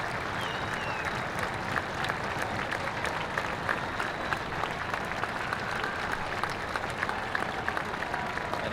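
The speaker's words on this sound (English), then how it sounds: "certainly going to be an ovation from this crowd." A large stadium crowd at a professional football match between Birmingham Legion FC and Atlanta United FC applauds steadily, a dense, continuous wash of clapping from many hands, loud and even throughout with no break.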